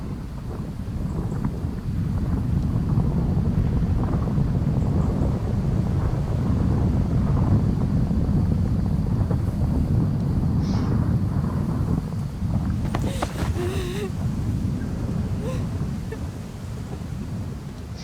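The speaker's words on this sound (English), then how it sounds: "Here comes the storm." Heavy storm from the Syberia video game: a continuous, loud roar of wind and rain fills the whole stretch, with a sharper crackling burst of thunder near the end.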